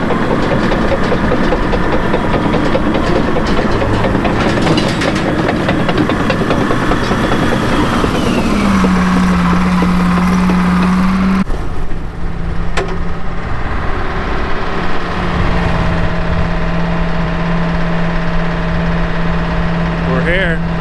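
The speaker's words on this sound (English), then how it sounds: "These Detroit diesels are really good at turning diesel fuel into noise." A Detroit diesel engine runs continuously with a loud, steady drone at a pump pit during an irrigation install. The pitch shifts partway through, and the engine stays heavy and constant to the end.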